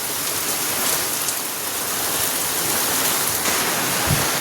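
Heavy rain pouring down in a loud, unbroken hiss, dense and constant throughout.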